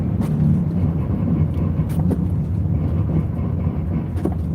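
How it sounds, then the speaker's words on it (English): Car anti-lock brakes engaging while driving on a snowy road in a winter storm, heard as a continuous low rumbling judder with faint scattered clicks, loud and close inside the cabin. "Hear the anti-locks?"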